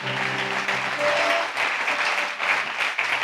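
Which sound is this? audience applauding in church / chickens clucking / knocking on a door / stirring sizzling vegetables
audience applauding in church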